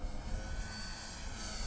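A 1/7-scale RC model Sopwith Camel fighter plane drones steadily in flight, its engine giving a continuous, even hum at moderate distance with no talk.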